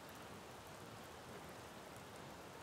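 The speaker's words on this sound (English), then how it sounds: "the rain is starting to lighten up" Quiet, even rain falling, a soft continuous wash of drops on surfaces with no distinct individual hits, steady from start to finish with no voices.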